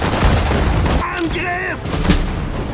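Bursts of gunfire and booming battle noise from the WWII strategy game Sudden Strike 4, set at Lille in May 1940, dense and loud for the whole clip, with a voice speaking orders midway.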